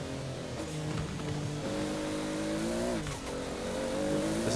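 Car engine in a racing video game played on a Logitech G920 wheel with paddle shifters, revving steadily with rising and falling pitch as gears shift at the red line, continuous and moderately loud with no talk.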